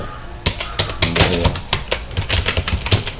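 Rapid computer keyboard typing, close and crisp: an uneven run of sharp key clicks and clacks with brief pauses, heard alone.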